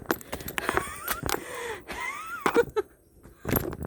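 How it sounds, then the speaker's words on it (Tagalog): Heavy, strained breaths and wheezy gasps come from someone climbing a steep uphill trail to a viewpoint. They arrive in irregular bursts with short pauses, close to the listener, with no speech. "Hingal ba eh?"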